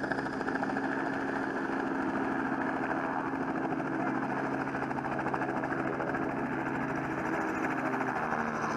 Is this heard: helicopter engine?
yes